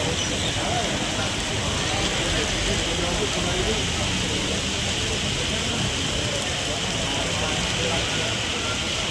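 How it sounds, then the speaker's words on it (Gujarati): Heavy early-morning rain over Surat city, where streets are waterlogged, forms a dense, steady hiss that fills the whole stretch at even loudness with no breaks. "સુરત શહેરમાં વહેલી સવારથી જ વરસાદી વાતાવરણ છવાયું છે"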